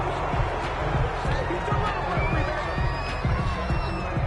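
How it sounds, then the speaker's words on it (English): Home crowd in a PS4 football video game, a broad steady roar of stadium cheering and murmur with thumping beats underneath, loud and constant throughout. "This home crowd, they're happy with that call."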